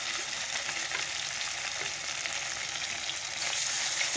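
Fish sizzling in hot oil in a home kitchen, a steady broadband crackle and hiss that holds evenly throughout with faint background clatter, no voices.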